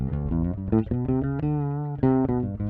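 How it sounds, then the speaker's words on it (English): A fretless jazz bass on its neck pickup plays a short melodic line with smooth, sliding notes and a warm, rounded tone, heard alone. "classic jazz bass neck pickup"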